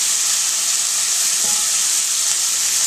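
Onions fry in a large pan with a loud, even sizzle and hiss that holds steady throughout, close and uninterrupted.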